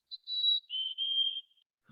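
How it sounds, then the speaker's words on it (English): Mountain chickadee song, a thin high whistled phrase of a brief lead note followed by three flat sustained notes spaced apart, each one slightly lower than the one before, clear and alone against silence. "Mountain chickadees have a similar kind of song."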